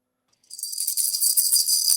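Maracas used as a game show buzzer start after a short silence and shake in a steady, bright, hissing rattle with slight rhythmic pulses, close and alone.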